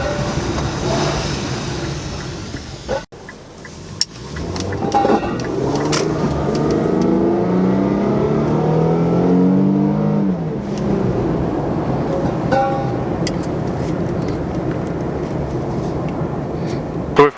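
An Infiniti Q50 with an aftermarket exhaust, heard from inside the car while driving: a loud, steady engine and exhaust drone that rises as the car accelerates, with a brief cut and a sharp pop partway through.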